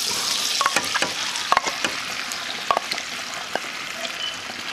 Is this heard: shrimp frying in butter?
yes